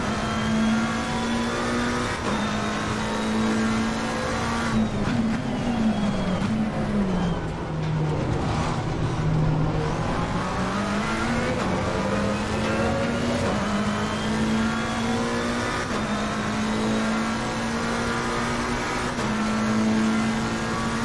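A McLaren 720S race car engine in Assetto Corsa Competizione racing at Imola drones loud and steady for the whole stretch, its pitch dipping under braking and climbing again through the gears, close and continuous with no talk.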